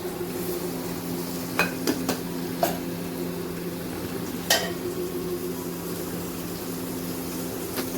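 Steady hissing sizzle of food frying in hot oil in a home kitchen, a soft continuous crackle with a low hum beneath and a few sharp clicks and taps scattered throughout.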